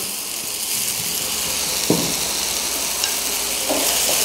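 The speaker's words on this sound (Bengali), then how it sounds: "পাঁচফোড়নটা ভালোভাবে ভাজা হয়ে যাওয়ার পর এর মধ্যে আমি যে সেদ্ধ করা সবজিগুলো ছিল সেগুলো দিয়ে দিলাম।" Boiled vegetables fry in a pan with panch phoron, producing a loud continuous sizzle with a few brief scrapes of stirring and no talking.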